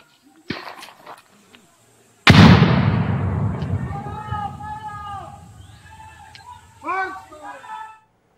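Gunfire rings out in a forest during a joint Chhattisgarh police operation against Naxals with COBRA, STF and DRG units: a few faint pops, then one loud, sharp blast with a long, rolling echo, followed by shouting voices.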